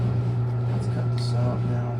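A Maytag washer spins at its high spin speed, giving a steady, loud low motor hum that holds without a break, with faint voices murmuring over it.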